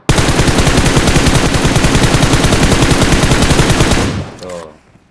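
Sustained automatic gunfire from an unaimed weapon in PUBG Mobile, a loud, rapid, even burst of shots for about four seconds, then cutting off into a short fading tail.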